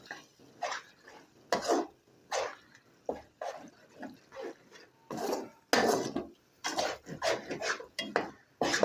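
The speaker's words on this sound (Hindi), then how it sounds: "चमचा चलाते रहना है और अंडों को जो है ना हमने पका लेना है" A spoon scraping and clinking against a pot while eggs and potatoes are stirred for aloo anday, in irregular bursts of close metallic knocks and scrapes, with no voices.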